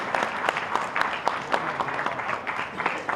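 An audience at a student awards ceremony in a community hall applauds to welcome a speaker, a sustained ripple of many hands clapping at moderate volume.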